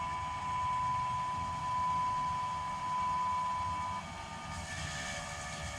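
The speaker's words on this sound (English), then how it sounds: "So again, lift pump comes on." AirDog 4G 200GPH fuel lift pump priming on a Cummins diesel, a steady close mechanical whir with a constant tonal whine that shifts in pitch and level near the end, no voices.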